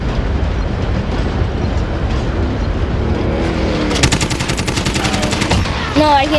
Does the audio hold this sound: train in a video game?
yes